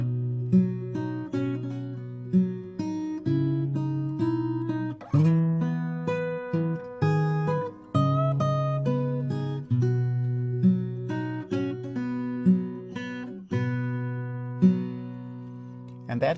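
Fingerpicked acoustic guitar plays an arrangement of a song at full tempo, a steady alternating bass under a ringing treble melody, with clear plucked notes and chords flowing continuously.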